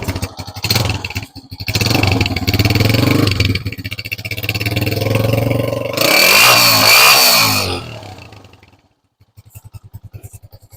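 A restored Honda 125 motorcycle with sports modifications revs hard during a sound test, loud and close with rising engine pulses and clattering, then cuts to a brief silence before a few sputtering idle beats.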